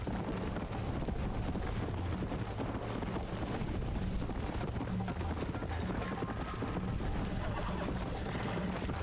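Horse hooves clip-clop at a steady gallop in the video game Red Dead Redemption, a continuous rhythmic drumming, fairly faint under game ambience, with a person talking over it.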